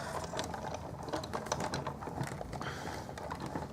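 A hand-cranked die-cutting machine rolls card stock through its plates while making a close, steady ratcheting clatter of small mechanical clicks and grinding that continues for the whole stretch.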